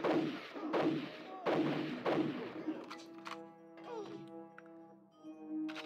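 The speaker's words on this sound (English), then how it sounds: "I keep getting interrupted by these guys with shotguns" Enemies firing shotguns in the video game GoldenEye 007: four loud, booming blasts in quick succession, each with a short decay, followed by tonal in-game music.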